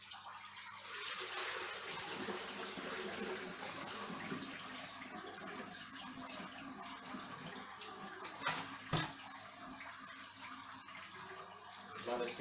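Water poured from a bucket during a water change, a continuous rushing, splashing flow lasting many seconds with a brief louder knock partway through, heard under light talk.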